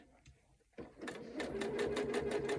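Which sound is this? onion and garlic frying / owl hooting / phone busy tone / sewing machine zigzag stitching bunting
sewing machine zigzag stitching bunting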